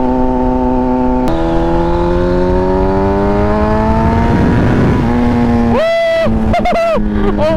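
A 2007 Honda CBR 1000 RR sportbike engine revs hard and climbs steadily in pitch, then blips sharply on a touchy throttle several times. It is loud and close, with a brief excited shout near the end.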